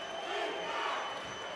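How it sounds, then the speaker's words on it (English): Big home crowd cheering at an Atlanta football game inside Infinite Energy Center, a dense, continuous roar of many voices that stays loud and even throughout. "Here comes that Atlanta home crowd, a big crowd inside Infinite Energy Center tonight."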